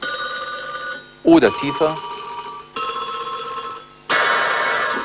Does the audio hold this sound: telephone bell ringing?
yes